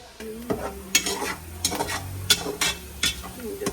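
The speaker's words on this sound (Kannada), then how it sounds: "ಫ್ರೈ ಆಗಬೇಕು ಇನ್ನು ಸ್ವಲ್ಪ ನೀಟಾಗಿ ಆನಿಯನ್ನು ಫ್ರೈ ಆದರೆ ಒಳ್ಳೆ ಟೇಸ್ಟ್ ಬರುತ್ತೆ" Onions frying in a pan and being stirred, with irregular scraping strokes and clinks of a utensil against the metal over a steady sizzle, close and fairly loud, with no talking.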